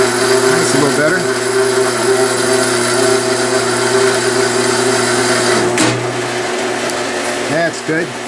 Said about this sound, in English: I'm not going to bore you with any more band sawing